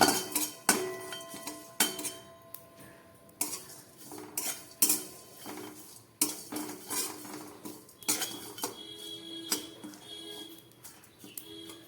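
A metal spoon clinks and scrapes against a kadai again and again in an uneven rhythm while biryani spices, including cloves, cardamom, cinnamon, rose petals, star anise and nutmeg, are lightly fried over low heat. The sounds are close and clear, with no talk over them.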